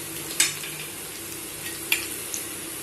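Onions sautéing in a pan for an Indian potato fry, a steady soft sizzle with a couple of sharp stirring clinks against the pan, no voices.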